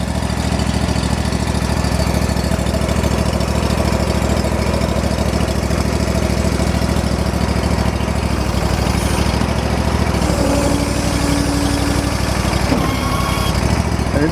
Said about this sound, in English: we have a Gardner core collector walk behind with a Kawasaki